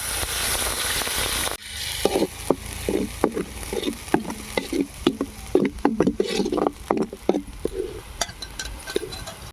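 Ground onion paste frying in cooking oil in a pan for a chicken dish: a loud, steady hiss at first, then an irregular run of close, sharp spatula scrapes and knocks over a softer sizzle, with no talking.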